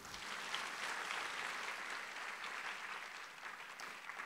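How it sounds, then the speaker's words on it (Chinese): Steady, dense applause from an audience at an Atomy company business seminar, sustained and fairly distant throughout without a break. "所以呢，我们把掌声送给爱多美公司。"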